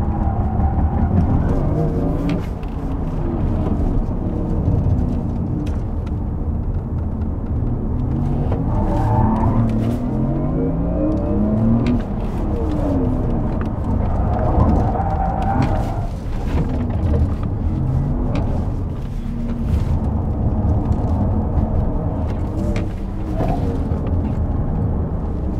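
A Porsche Macan Electric car accelerating hard, a continuous loud electric motor whine rising and sweeping in pitch with road and tyre roar throughout, no voices.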